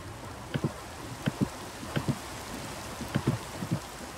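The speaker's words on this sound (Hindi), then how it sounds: "बारिश होने लगी यहाँ पर, बारिश बहुत होने लगी।" Rain patters steadily in the Minecraft video game, a soft hiss of falling drops broken by a handful of brief, quiet clicks and thumps, with no voices.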